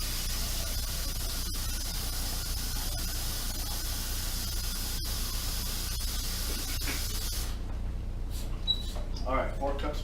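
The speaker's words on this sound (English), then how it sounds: "I'm going to add 4 cups of water" Water pours steadily into a pot for about seven seconds as the first step of a hard cider brew, a broad continuous splashing rush that thins into lighter trickles and drips near the end.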